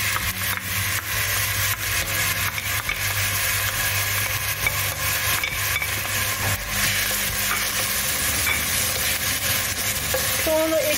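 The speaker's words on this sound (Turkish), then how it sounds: "Tenceremizin dibini alacak kadar zeytinyağı koyup soğanımızı da ekliyorum." Onions sizzle and crackle in hot olive oil in a pot, a steady close frying hiss with occasional stirring clatter.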